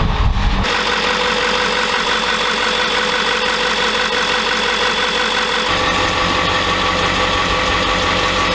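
A Mustang's engine cranks and catches, then settles into a steady, loud idle with constant mechanical vibration, heard up close right after a fuel filter replacement, with no talking.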